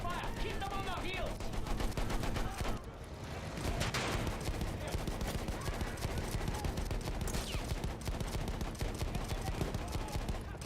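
Rapid video-game gunfire streamed through Xcloud on a console, with dense bursts of shots and sustained automatic fire filling the whole stretch while someone talks over the action.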